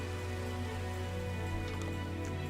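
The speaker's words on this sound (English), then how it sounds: "It's raining." Rain falls in the blocky game world of Minecraft, a steady, dense hiss of drops on surfaces that holds evenly throughout with no voices.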